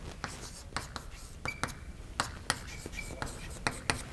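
Pen or chalk writing on a board during a university lecture on maximum mean discrepancy, heard as a series of sharp, irregular taps and short strokes, fairly close and moderately loud, with no talking over them.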